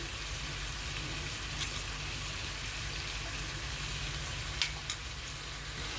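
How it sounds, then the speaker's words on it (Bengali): Potato and pumpkin chunks frying in spices in a pan give a steady, close sizzle, with a couple of short clinks near the end and no voices. "এবার সব মশলাটার সাথে ভালো করে কষিয়ে নেবো আলু কুমড়োটাকে"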